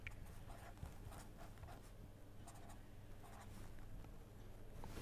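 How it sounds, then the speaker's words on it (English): Handwriting on paper gives faint, close scratches and taps in irregular strokes over a low steady hum, with no speech. "Okay, I can write it here."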